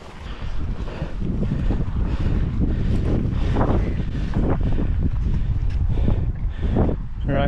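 Strong wind buffets the microphone at Little Black, a loud, continuous gusting rush with no break, and voices are faintly mixed in beneath the roar.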